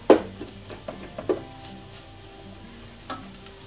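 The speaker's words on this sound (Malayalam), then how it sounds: "ഇനി ഇതിലേക്ക് മഞ്ഞൾപ്പൊടി ചേർത്ത് കൊടുക്കാം. 1/2 സ്പൂൺ. നന്നായി വഴറ്റിയെടുക്കാം." Duck curry masala sautéing with turmeric powder in a pan, a spoon scraping and tapping in a few sharp strokes over a soft, steady sizzle.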